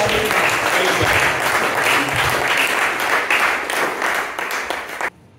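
Congregation at a men's church conference in Ukonga applauding to welcome a guest, loud sustained clapping that fades and cuts off near the end, with faint voices underneath.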